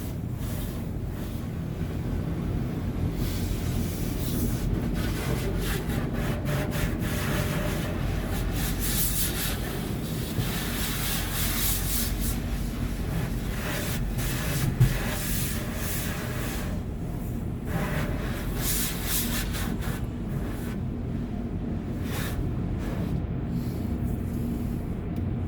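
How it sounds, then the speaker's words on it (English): Brushes scrub the sides of a van at the Classic Touch Car Wash in St. Thomas, a steady close broadband wash of rubbing and spraying noise that runs unbroken with occasional harsher swishes. "they get some brushes and they're just scrubbing down the sides of the van"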